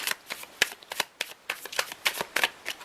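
Tarot cards being shuffled by hand during a card reading, a quick run of crisp riffling slaps and flutters close to the mic with no talking.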